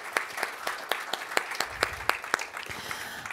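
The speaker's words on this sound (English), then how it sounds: "I would like to give the organizers a big round of applause" Applause from a conference audience at a transportation electrification event, with a steady run of distinct sharp claps at a moderate level, sounding like a smaller crowd and fairly close.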